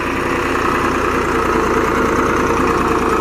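A Same Greaves 353 35 HP tractor engine idles steadily and close, with a dense, continuous rumble and faint knocking vibration running unbroken throughout, no voices.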